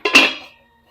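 A lid set down over a pot of prawn-head and okra curry on the stove, a single short metallic clink ringing briefly before fading, close and alone.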